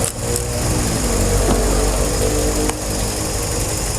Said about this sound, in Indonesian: Dan ini mau mesin dibiarin nyala terus, ini pasti ada tujuan ini ya.